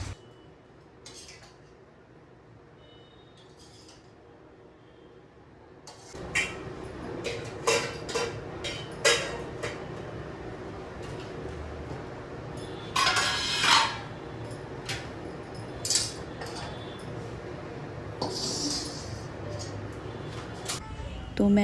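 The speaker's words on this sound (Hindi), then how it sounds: "तो अब चूड़ा मटर को मैं इसमें से निकाल के दूसरे बर्तन में खाली कर लेती हूँ।" Chivda and peas are emptied from a pot into another utensil, with scattered metallic clinks, scrapes and knocks of the vessels and spoon while someone talks throughout.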